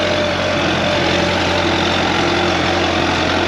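A Kubota M9540 tractor engine runs steadily while driving, a loud continuous diesel drone with a deep low rumble and no talk.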